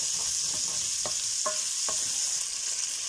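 Onions sautéing in a pan as chopped tomato goes in, giving a steady, close frying sizzle with a few soft stirring clicks and scrapes on top.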